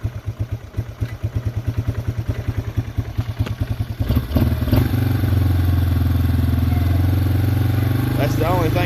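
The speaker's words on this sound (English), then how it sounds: "I got the idle a little bit too low." A Yamaha Wolverine ATV engine, just rebuilt, idles with a rough, uneven putter at first, then catches and settles into a steady, louder, higher idle after being revved up; loud and close throughout.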